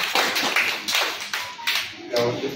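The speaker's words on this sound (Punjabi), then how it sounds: "ਇੱਕ ਵਾਰੀ ਜ਼ੋਰਦਾਰ ਤਾੜੀਆਂ ਵਜਾ।" Short burst of audience clapping at a film launch ceremony, a few loud uneven rounds of claps lasting under three seconds, close and fairly dense.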